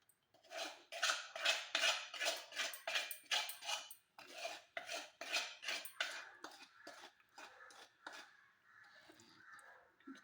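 A spoon scrapes and stirs through vadukapuli lemon pickle in a bowl, a quick rhythmic series of close rasping strokes that slows and fades toward the end.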